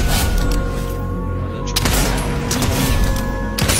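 Sniper rifle gunfire in the Fortnite video game, loud sharp cracks with one around the middle and another near the end, set over a busy, dense game soundscape.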